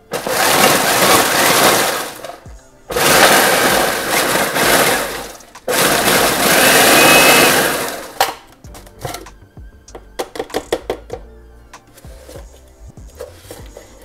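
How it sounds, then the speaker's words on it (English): A food processor grinds cookies into crumbs in loud, sustained bursts with brief pauses between them, then shorter rattling pulses toward the end. "Now that we have added our cookies to our food processor"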